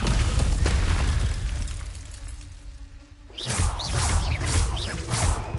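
Descendo spell cast in Hogwarts Legacy, a heavy booming impact with a crashing, shattering burst that gives way to a quieter rumble and then a fresh flurry of loud magical crackles and whooshes.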